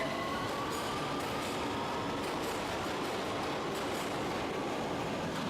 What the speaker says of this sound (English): The train moves away quickly.